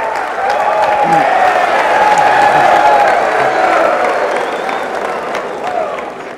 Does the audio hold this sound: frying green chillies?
no